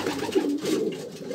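Pigeons cooing nearby, a soft, low, throaty cooing that is brief and fairly close, heard on its own without talk.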